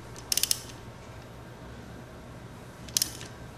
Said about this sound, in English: you need to crank the crankshaft clockwise and watch the flywheel in here